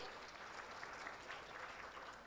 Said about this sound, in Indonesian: Boleh kasih tepuk tangan yang meriah dong buat Atomi?